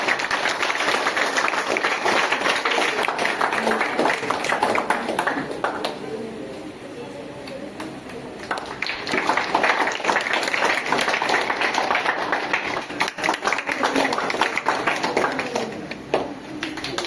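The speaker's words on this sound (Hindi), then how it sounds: "तालियों की आवाज कम नहीं होनी चाहिए" Audience at an Ahilyabai Holkar birth tricentenary commemoration applauds loudly and continuously, the clapping dipping briefly midway before swelling again, with voices mixed in.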